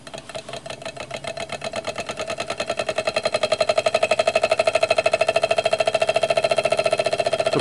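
A MESCO toy DC motor powered by two number six dry cells runs in reverse, a loud, steady buzzing whir with a fast pulsing rhythm that swells slightly as it gets up to speed, heard alone.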